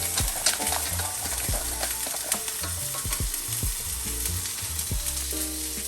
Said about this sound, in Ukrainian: Далі чекаємо, щоб наш соус трошки уварився, можемо взяти вінчик. Трошки його кулішнути.